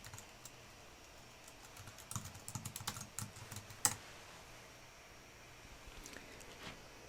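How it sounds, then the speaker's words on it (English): Light tapping on a computer keyboard while entering a search term, a short flurry of soft keystrokes followed by one sharper click, faint against a quiet room. "Type in the word biodiversity, correct the spelling, and I'm going to go across here and choose search."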